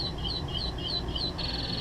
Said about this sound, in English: That's the bird telling me get to work